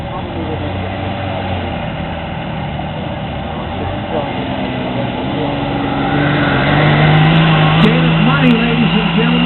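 Diesel truck engine of the 3.2 diesel class at a truck pull, a steady loud drone that swells louder and higher in pitch past the midpoint, with a crowd and an announcer's voice mixed faintly underneath.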